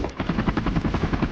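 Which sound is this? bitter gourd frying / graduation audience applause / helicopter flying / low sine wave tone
helicopter flying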